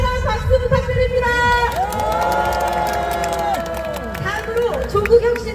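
A crowd at an opposition parties' rally in Korea cheers and applauds after a speech. Mixed shouts and clapping run under loud amplified music or announcements with sustained tones, and the crowd noise swells again near the end.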